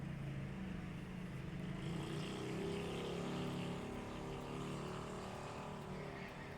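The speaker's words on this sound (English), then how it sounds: "I love that you can hear a car from so far away." Steady engine drone from a distant vehicle, a constant broad rumble with no speech, holding at an even level throughout.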